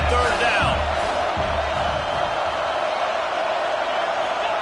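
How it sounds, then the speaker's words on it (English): Football stadium crowd roaring loudly during a third-down defensive stand, a broad sustained wash of noise that stays dense throughout, with a commentator's voice running over it. "Decibels rising as the crowd gets behind this defense on third down."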